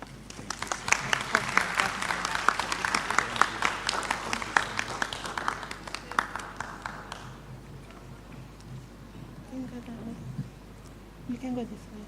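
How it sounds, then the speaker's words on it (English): An audience at a university research week presentation claps for about seven seconds, a dense patter of hands that then fades out, leaving a few faint voices in the room. "Another round of applause for Dr. Cassiano"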